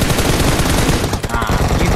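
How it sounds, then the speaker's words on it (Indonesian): Rapid automatic gunfire in PUBG, a loud, dense stream of shots firing nonstop for two seconds with a brief gap near the middle, close and dominant over a faint voice. "Ini gue nembak musuh nih, guys."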